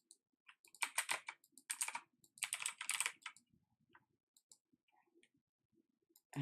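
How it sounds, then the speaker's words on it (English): Someone types data entry on a computer keyboard, with quick bursts of close key clicks in clusters and short pauses between them, thinning to scattered taps toward the end in a quiet room. "I love typing in these data entry items for us for testing."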